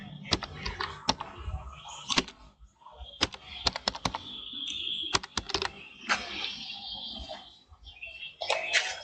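A school name is typed on a computer keyboard into an online apprenticeship application form, coming as bursts of quick, close key clicks separated by short pauses, with no talking.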